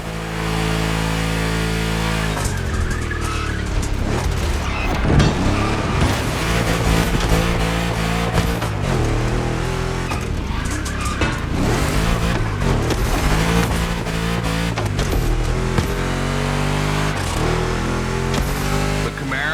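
A 1,000-horsepower modified classic 3100 pickup races through a second lap in The Crew Motorfest, its engine roaring and revving steadily and loudly throughout, with gear changes and surges under a dense, continuous bed of sound.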